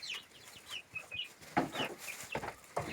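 Chickens clucking and softly chirping at close range, with scratching and rustling sounds mixed in, irregular and moderately quiet.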